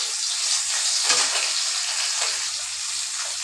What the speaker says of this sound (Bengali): তখন আমি মাছটা ভাজ্যা লই